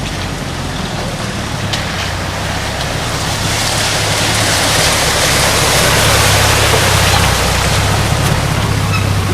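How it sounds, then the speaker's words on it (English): A stream flows across a main road in rainy season, a loud, steady broadband rush of water that swells slightly over time, close by and continuous with no voices. "this is the stream running across the main road"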